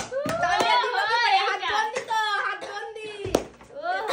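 Family members clap loudly during a lipstick challenge game, sharp hand claps scattered among excited overlapping voices and a child's speech.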